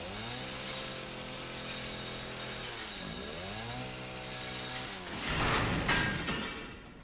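A video game chainsaw buzzes steadily, dipping and rising in pitch twice before a harsher, noisier grinding burst near the end.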